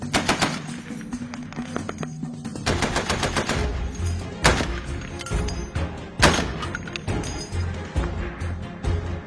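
Loud long-range rifle shots crack out in several bursts, some in rapid strings, with echoing rumble between them, on a Ukrainian front line.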